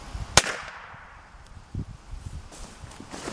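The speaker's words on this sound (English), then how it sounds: "So let's go ahead with the shooting test." A homemade airsoft shotgun pistol fires a single shot shell from about five or six feet away, making one sharp, loud crack with a brief echo, followed by quiet rustling and light footsteps.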